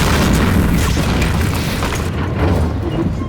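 An anime tank cannon fires at a Churchill tank. It sounds like a loud, sustained blast and rumbling boom that fills the whole moment, heavy in the low end, with the noise tapering slightly toward the end.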